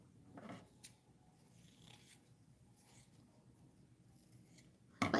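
Scissors snip through fabric for scrunchies in a quiet room, a few faint, scattered cuts followed by a sharper, louder snip at the end.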